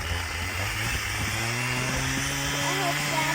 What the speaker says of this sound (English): pardon the chainsaw